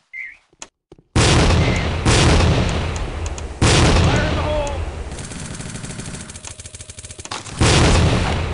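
Gunfire and a grenade blast in the tactical shooter Tactical Ops: Assault on Terror on the Dustbowl map: a loud sustained barrage of booming shots and rapid automatic fire fills the scene after a short quiet opening.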